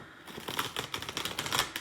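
Tarot cards being shuffled during a live tarot reading, giving a quick run of crisp, close riffling flicks and clicks lasting under two seconds, with no talk over it.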